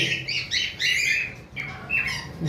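Pet birds for sale at a dealer, including a pair of green-wing opaline parrots, give loud, close squawks and shrill calls in quick bursts, with a brief lull midway before they resume.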